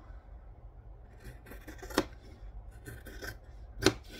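Scissors cut fabric for a quilt pattern, making a few soft rasping snips with two sharp louder closes, close up and without talking.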